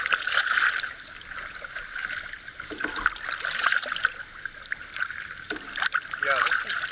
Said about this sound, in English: So she heard me paddling.